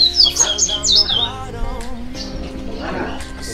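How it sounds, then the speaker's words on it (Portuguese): Yellow parrots at Pomerode zoo in Santa Catarina give sharp, high chirping calls in a quick cluster early on, then fainter scattered calls while people talk in the background. "Também tem uns papagaios diferentes, aquele amarelinho lá"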